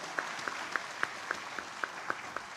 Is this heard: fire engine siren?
no